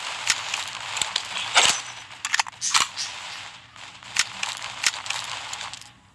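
Video game gunfire in a free-for-all shooter, several sharp snapping shots scattered irregularly over a soft background, fairly quiet with no talk.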